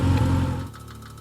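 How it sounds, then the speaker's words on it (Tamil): A car engine runs steadily with a low rumble that drops in level as the vehicle slows and pulls over, ending in a quieter idle. "சரி அந்த ரைட்ல போய் வண்டி நிறுத்து"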